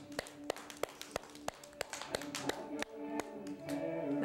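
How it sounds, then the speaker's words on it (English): A child claps hands loudly in a story-hour setting: a string of sharp, evenly spaced claps, about a dozen, ringing close and crisp, while an adult voice talks and a musical tone swells underneath toward the end. "clap your hands"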